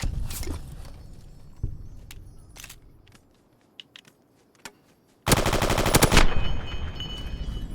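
Gun fired in the video game Fallout New Vegas, a dense loud burst of rapid automatic shots after scattered quieter clicks and impacts, the firing continuing steadily to the end.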